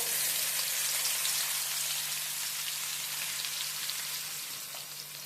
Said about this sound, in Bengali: গ্যাসের ফ্লেমটাকে মিডিয়ামে রেখে দু তিন মিনিট ভালো করে পেঁয়াজটাকে ভেজে নিতে হবে